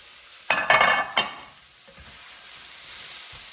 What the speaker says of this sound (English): So I'm going to add the beef to the vegetables.